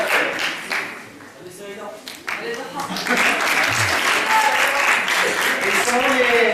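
Audience applause fills a hall at a regional medical school student competition, a steady, dense clapping that swells and continues, with a voice speaking over it early on.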